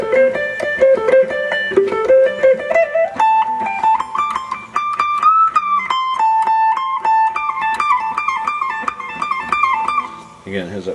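Electric guitar plays a solo passage, a steady run of single notes with rising string bends and sustained tones, close and clear, ending with a brief pick scrape.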